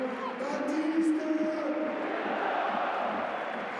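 Dense, steady roar of a stadium crowd at a Racing versus Stade Brestois football match, reacting to a player's substitution. The sound is broad and continuous with a faint voice over it, and no single claps stand out.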